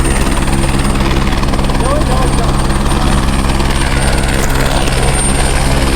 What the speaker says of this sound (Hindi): केदारनाथ यात्रा का एक बहुत ही इम्पोर्टेंट पहलू, हेली सर्विस, हेलीकॉप्टर।